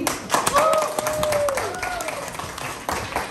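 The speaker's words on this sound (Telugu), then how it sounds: "సో చిక్కి కోసం అందరూ ఒక బిగ్ క్లాప్ ఇవ్వండి" Guests at a family wedding gathering clap in a short burst of sharp, scattered claps. A voice speaks over it and a faint tonal sound wavers in the background.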